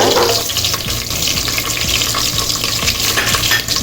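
Curry leaves and green chilies are stirred in hot oil in a large pan, sizzling and crackling steadily, with the scrape of the spoon against the metal running close and loud throughout.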